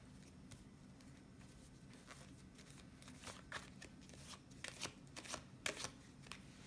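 Tarot cards shuffled by hand in quick riffling bursts, close and fairly soft, growing busier toward the end over a low steady hum.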